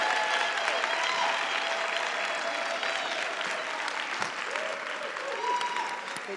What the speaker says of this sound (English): Please join me and give them a loud round of applause.